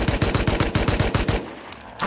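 AK rifle gunfire in an online survival shooter during a raid on wipe day: a rapid automatic burst of about a dozen evenly spaced loud shots, close, then stopping abruptly.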